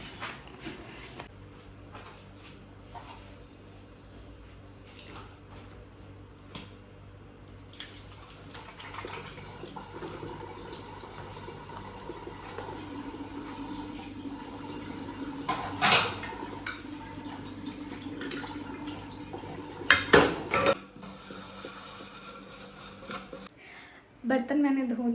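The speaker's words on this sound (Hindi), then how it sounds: "बर्तन मैंने धो लिए हैं।" Dishes, pots and utensils clatter and scrape in a home sink under a running tap, with water splashing steadily and sharp clinks of metal and crockery, while background music or speech runs underneath.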